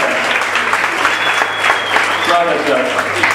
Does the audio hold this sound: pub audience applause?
yes